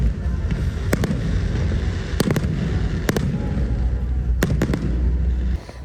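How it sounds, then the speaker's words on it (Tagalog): Fireworks display at a large festival in Pampanga, with a steady roar of crackling bursts and several sharp, loud bangs spaced through the scene, continuous and dense from start to nearly the end. "Sunod-sunod na pagsabog ng kulay at liwanag ang bumalot sa buong lugar"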